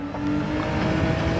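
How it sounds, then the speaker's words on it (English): A race car engine at full revs in the Gran Turismo 7 racing game on the Sardegna circuit, a brief loud steady engine drone close up with no talking. "I'm just revving it full, but I'm not holding full revs for too long"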